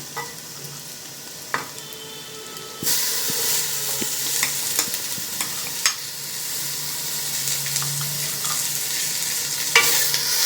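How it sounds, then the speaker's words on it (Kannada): Tomatoes frying with reddened onions, ginger, coriander and mint in a pan for a mushroom green pulao, a steady sizzle with intermittent stirring scrapes, the frying getting louder partway through, close up with no talk. "ಇವಾಗ ಸ್ವಲ್ಪ ಟೊಮೆಟೊ ಫ್ರೈ ಆಗಿದೆ."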